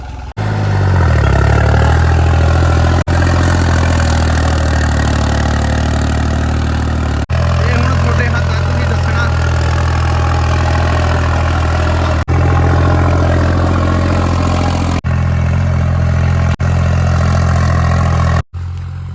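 A modified 3630 tractor engine runs loud and steady at close range, a deep throbbing idle with occasional swells of revving, cutting off abruptly near the end.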